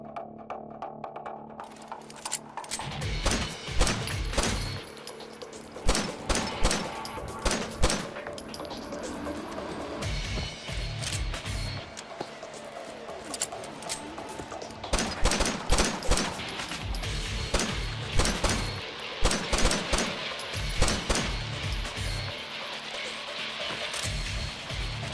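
Dual-wielded Juger pistols fire in Fallout 4, sounding as rapid paired bursts of sharp shots that repeat in clusters over a steady background hum.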